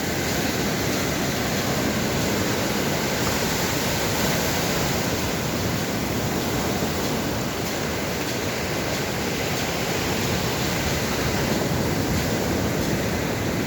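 Sea waves wash onto the shore at Ao Nang beach during light drizzle, making a dense, steady roar of surf with no voices.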